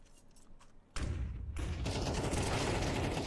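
Gunfire in a competitive first-person shooter esports match: after a quiet opening second, a sudden loud burst of rapid shots and impacts erupts and continues as a dense, sustained barrage close up.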